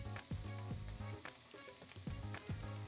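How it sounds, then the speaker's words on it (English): Coconut mix goes into an ivy gourd (kovakka) thoran stir-fry, and a steady close sizzle runs under melodic background music without any talking. "Now I'm going to add the coconut mix."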